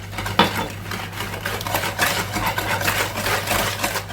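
Eggs beaten by hand with vanilla and oil in a bowl, a steady run of quick clinking utensil strokes against the bowl, close and fairly loud, with a constant low hum behind.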